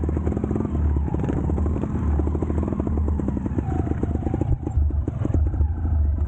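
A motorcycle engine pulls in first gear on a rough trail, close and loud, with a steady throbbing drone and rattling clatter that lasts throughout.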